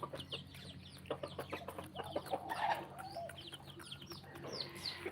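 Several roosters clucking and squawking at feeding time, one older bird chasing the others; dense overlapping clucks and chirps, moderately close, steady and busy throughout with no speech.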